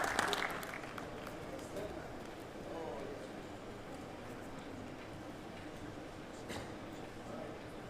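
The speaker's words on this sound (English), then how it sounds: "Let's give him a warm round of applause." Audience clapping at an aviation safety panel discussion in a conference hall, a sustained wash of applause from a crowd, moderately distant and steady for several seconds before tapering slightly.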